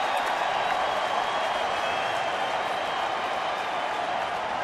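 Broad, steady roar of a large baseball stadium crowd cheering and clapping during a Kansas City at Detroit afternoon game, sustained without a break and with no talk over it.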